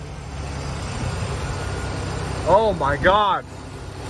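A 2005 Chevy Silverado 2500 runs smoothly after new injectors, its steady engine hum carrying under a man's excited exclamation.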